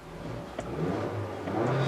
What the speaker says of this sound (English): Now, what you're hearing is a new engine actually this year.